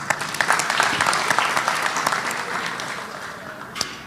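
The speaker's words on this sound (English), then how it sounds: "let's join in a big round of applause for this second RP" Audience applause fills a graduation ceremony at a stadium, steady dense clapping from a large crowd that holds for the full stretch, with a sharper burst near the end and faint voices mixed in.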